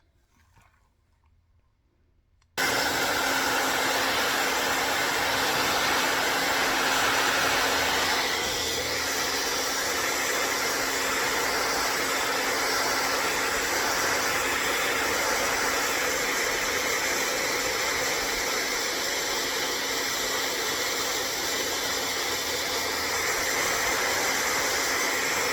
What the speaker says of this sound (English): After 2-3 minutes hair dryer, you see after 2-3 minutes, see the little bit surface is like that, dry.